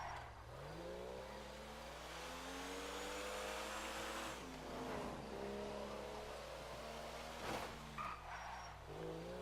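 A car in Grand Theft Auto 5 drives with a continuous revving engine whose pitch climbs and drops through gear shifts, brief tire squeals and bumps breaking up the steady drone.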